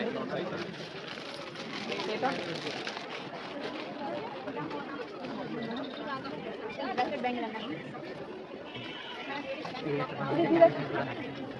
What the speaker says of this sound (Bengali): প্রচুর ভিড় আছে